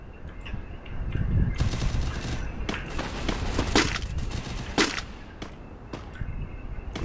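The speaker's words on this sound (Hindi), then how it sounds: "अरे स्नाइपर मारी किसी ने" Sniper rifle fire rings out in a mobile shooter video game, with repeated sharp cracks and bursts in an irregular rhythm, loud and close, over a constant game background.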